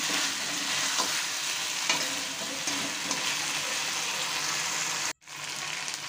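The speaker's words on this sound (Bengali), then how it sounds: "এরপর ভেজে রাখা মাছ এবং আলুটা এর মধ্যে আমি দিয়ে দিচ্ছি। দিয়ে ভালো করে নেড়ে চেড়ে দেবো।" Fried river fish (kokila) and potatoes stirred into a cooked-down spiced masala sizzle steadily in the pan, with a continuous frying hiss and faint scraping, close up, ending in a brief pause before the sizzle resumes.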